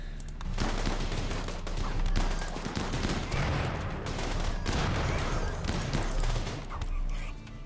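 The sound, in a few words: shotgun fire in the video game Rimworld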